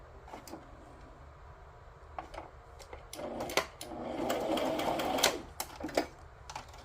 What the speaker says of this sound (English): There was nothing wrong with my sewing machine.